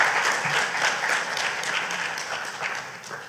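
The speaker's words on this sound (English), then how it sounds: "Robert Branch a round of applause" A lecture audience at the Carol Bristol distinguished lecture series applauds in a sustained, even burst of many hands clapping, fairly distant in the hall and tapering gently toward the end.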